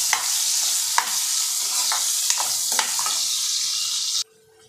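Chopped onions fry in hot oil after a curry-leaf tempering for bottle gourd sabzi, giving a steady loud sizzle broken by scraping stirs of a spoon in the pan before it cuts off abruptly.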